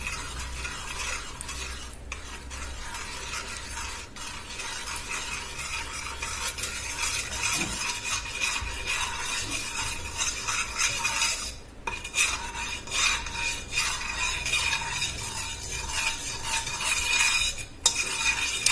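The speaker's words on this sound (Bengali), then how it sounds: "হলুদটা দিয়ে ভালো করে এটা ভেজে নেব" Turmeric stirred and fried in ghee in a pan for Bengali basanti pulao, a steady sizzle under repeated scraping and clinking of a spoon against the pan, with no talking.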